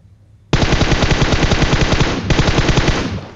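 Automatic rifle fire in the mobile shooter PUBG Mobile: a sudden, loud, sustained burst of rapid shots, a brief hitch midway, then continuing until the clip ends.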